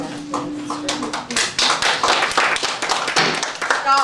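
Audience applause at a Glen Rose city council meeting, a close burst of clapping that builds after a moment and continues for several seconds, with a voice briefly heard over it.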